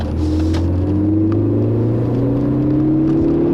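A 2013 Ford Focus ST accelerates at half throttle from inside the cabin, its engine drone climbing steadily in pitch with a smooth rising tone and road rumble underneath, no talk.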